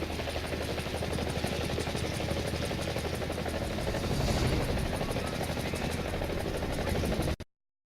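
A Mi-24 helicopter rotor in War Thunder thumps rapidly and steadily over a droning engine whine, loud and close, then cuts off abruptly.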